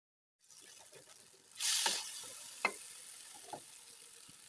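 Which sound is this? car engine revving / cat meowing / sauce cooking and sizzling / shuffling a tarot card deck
sauce cooking and sizzling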